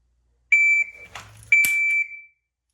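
Two sharp electronic beeps from a shot timer during dry-fire practice, each a steady high tone lasting about a quarter second, about a second apart, with a brief rustle and click between them.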